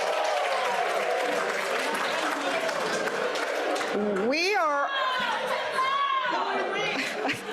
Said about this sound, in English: you guys are a rowdy crowd here